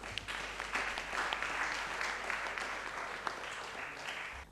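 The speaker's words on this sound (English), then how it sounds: "Please welcome them with a round of applause" Audience applause welcoming a student team at an investment course finale, steady, moderately distant clapping from a crowd that runs throughout at a fairly low level.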